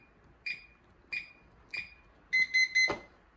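Three short electronic beeps from a Kwikset Powerbolt 2 electronic deadbolt lock, evenly spaced, then three quicker beeps in a row ending with a brief mechanical click, close and fairly quiet.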